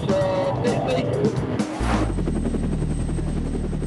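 A police car drives at speed while chasing a fleeing Renault Clio, its engine roaring loud and close, with the pitch changing midway into a steady, powerful drone, as a voice talks over it.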